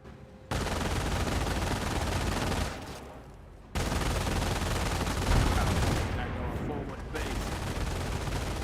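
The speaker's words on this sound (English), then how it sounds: "Hellcat's straight forward, got explosion there, some sort of landmine." Loud in-game battle from Company of Heroes, with a landmine blast and bursts of heavy gunfire and explosions filling most of the clip, dropping briefly between volleys before resuming.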